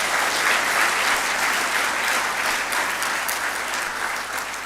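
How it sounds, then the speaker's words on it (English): At a conference opening ceremony, an audience gives a spoken word artist another round of applause: full, sustained clapping from a large crowd that tapers slightly near the end. "Let's give him another round of applause."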